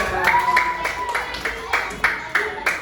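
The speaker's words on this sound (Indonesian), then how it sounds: "tepuk tangan dulu ya." Brief rhythmic clapping from a small group, a quick burst of hand claps over a murmur of voices.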